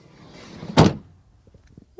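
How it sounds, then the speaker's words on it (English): Sliding side door of a 2020 Ford Tourneo Custom van slams shut with one loud, solid thud, followed by a few faint clicks and light rattles as it settles. "we start with the door closing sound of the sliding door"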